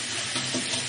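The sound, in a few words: rinsing rice under running tap water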